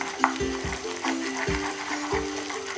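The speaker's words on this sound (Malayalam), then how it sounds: "ഇളക്കി കൊടുക്കാം." Sugar caramelizing in a pan over medium flame for butterscotch pudding, stirred with a spoon in steady rhythmic scrapes over a continuous low sizzle, close and moderate, no talk.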